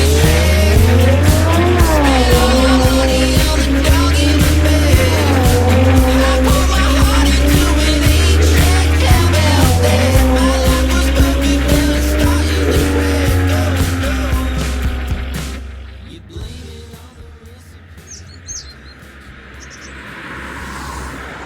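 Isuzu D-Max DL40 pickup truck driven hard around a racetrack, its engine droning loudly with rising and falling pitch and some tire noise before it fades away near the end.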